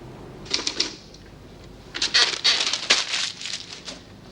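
A typewriter clatters in an office: fast bursts of crisp key strikes in two runs separated by a brief pause, close and fairly loud, with no talking over it.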